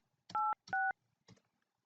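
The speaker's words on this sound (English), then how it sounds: "so I typed in the number" A phone keypad sounds two clear dialing tones in quick succession, then a fainter third, while a number is entered on a smartphone to place a call.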